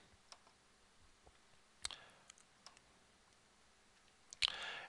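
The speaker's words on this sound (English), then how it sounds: "I can click on OK" A computer mouse clicks on an OK button, giving a handful of faint, sharp clicks spread out in a quiet room, with one louder click near the end.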